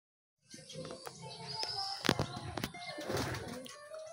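Racing pigeons returning to an outdoor loft during a year-end race training flight, with soft cooing, scattered wing flaps and sharp clatters over a steady background while people speak nearby.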